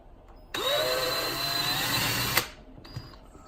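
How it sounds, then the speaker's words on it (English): A power drill bores a small starter hole with a brad point bit while building an end table, a steady loud whirring run of about two seconds that cuts off sharply, followed by a brief fainter mechanical burst. "I'm going to take a brad point bit that's smaller and get it started."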